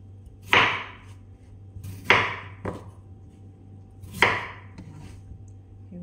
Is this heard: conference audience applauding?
no